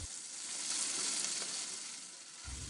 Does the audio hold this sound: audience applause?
no